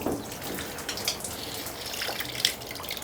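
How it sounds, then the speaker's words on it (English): Water runs steadily from a tap in a greenhouse, a continuous broadband wash with a few brighter splashy moments, fairly close and with no voices. "I should have turned the water off first"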